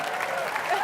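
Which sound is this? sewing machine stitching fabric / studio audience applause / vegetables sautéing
studio audience applause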